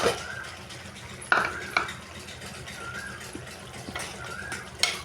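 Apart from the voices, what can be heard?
raw mango pieces added to curry pot and stirred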